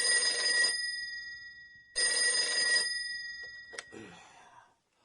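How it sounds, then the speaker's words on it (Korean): An old desk telephone rings in a quiet county office in Gyeongbuk: two long bell bursts, then a brief clipped ring before it stops. "비슷한 시기에 경북 선산군청으로 전화 한 통이 걸려온다."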